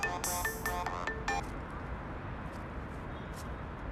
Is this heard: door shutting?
no